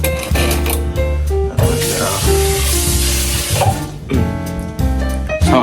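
Butter sizzles steadily in a pan on a home stove, a continuous close frying hiss with scraping and clinks of utensils, over a droning background hum.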